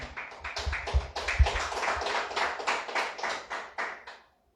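A church congregation claps in a quick, rhythmic beat, loud and close, about a dozen strong claps that taper off and stop abruptly.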